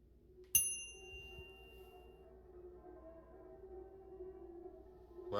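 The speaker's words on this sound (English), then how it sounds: "Let's ring-a-ling ding the bell." A single bright bell strikes once in The Isle Tide Hotel and rings out with a clear ringing tone that slowly fades, followed by a quiet low room hum.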